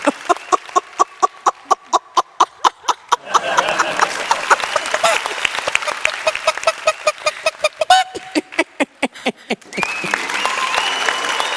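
A voice artist on a comedy stage mimics a singer's voice blended with a bird call; a run of rhythmic audience claps gives way to applause and warbling whistle-like vocal tones near the end.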